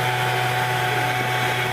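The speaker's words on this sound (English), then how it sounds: "Check it out. It's just a blower." A blower roars steadily and loudly while used on an ice sculpture at an ice art multi-block competition, an unbroken whooshing drone held at constant level with no talk.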